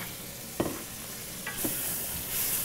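Two tablespoons of butter sizzle in a pan for a penne vodka cream sauce: a soft, even frying hiss broken by a few light clinks of a utensil against the pan.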